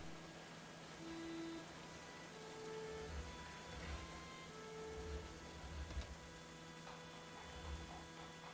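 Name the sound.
rain falling in a video game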